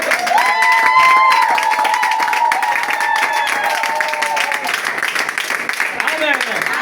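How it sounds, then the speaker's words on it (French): A church congregation at a women's conference in Burkina Faso claps, a loud dense patter running continuously, with a sung or spoken voice carrying over the clapping from start to finish. "Applaudissons en présence du Seigneur."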